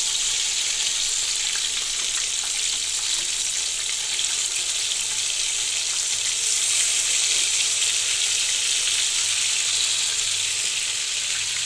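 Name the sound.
green chicken pieces frying in a pan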